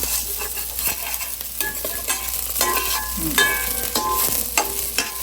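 Tuna pieces frying with ginger for sinigang, a steady close sizzle and hiss of hot oil with stirring scrapes and clinks of a utensil against the pan, with no talking.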